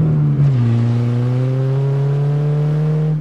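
An old Saturn car engine revving on a farm, one loud, close rise in pitch that climbs smoothly and holds for about three seconds.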